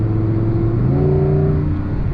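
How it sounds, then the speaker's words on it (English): The 570-horsepower V10 of a 2024 Audi R8 supercar revs loud and close, a dense, continuous engine roar whose pitch climbs smoothly partway through, with no voices over it. "this sound is all you want. It's a clear supercar sound."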